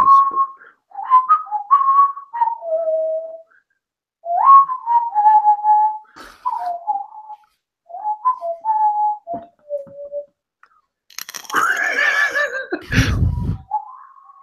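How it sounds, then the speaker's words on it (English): A person whistles a bouncy tune in short melodic phrases separated by brief pauses, close and clear, with a burst of laughter breaking in near the end. "Keep whistling."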